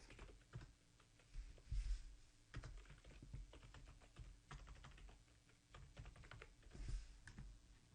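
Someone types a folder name on a computer keyboard, with quiet, quick, irregular key clicks and a few heavier strokes, close by and without speech.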